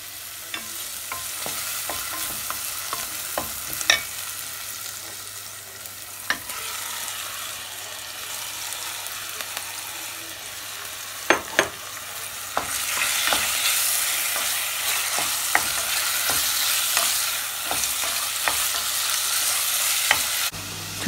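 Rice being stir-fried for chicken curry rice, a steady sizzle with repeated sharp scrapes and clacks of a spatula against the pan, growing louder and denser in the second half, with no talking.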